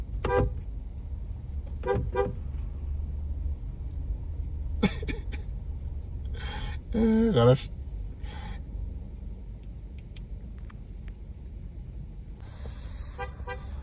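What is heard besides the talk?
traffic jam with cars honking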